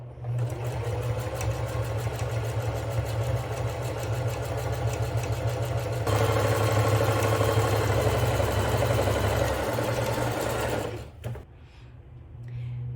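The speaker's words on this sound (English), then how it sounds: "You're going to continue sewing the straight line for each of the other individual markings that we made." A sewing machine runs steadily stitching a straight seam on a travel bag, a loud continuous whirring hum that lifts slightly in pitch midway, then stops near the end.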